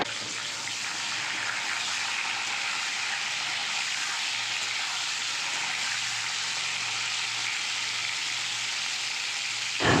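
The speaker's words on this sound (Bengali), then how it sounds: "আমি সব পটল এখানে একসঙ্গেই ভাজছি" Pointed gourd (potol) pieces frying together in a pan of oil for a vegetarian dish, giving a steady, loud, continuous sizzle with no talk.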